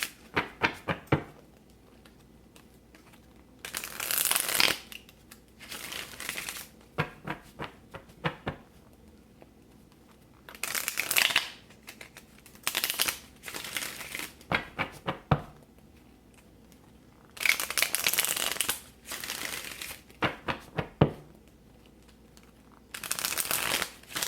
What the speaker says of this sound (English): I'm going to shuffle them again on camera for you guys